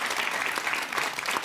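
A studio audience at a talk show applauds steadily, a dense patter of many hands clapping at once, sustained and fairly loud throughout.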